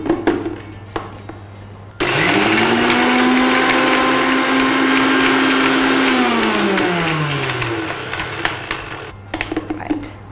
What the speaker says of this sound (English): All this I'm going to blend up in my chutney jar in the Philips mixer grinder.